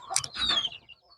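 Hens in a poultry coop give a short burst of clucking, a few close, sharp calls with a squawk that fades within about a second.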